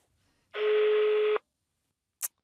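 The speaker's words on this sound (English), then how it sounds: "that sounded a lot like a foreign ringtone to me, but the call ended on 1 ring" A telephone call: a single steady foreign-style ringtone tone rings once for under a second, then the line goes quiet apart from a brief click and a faint blip as the call ends.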